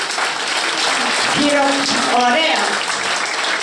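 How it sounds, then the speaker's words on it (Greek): An audience applauds for the ladies at a Lyceum of Greek Women event, steady crowd clapping that runs the whole stretch while a voice briefly speaks over it midway. "χειροκρότημα για τις κυρίες"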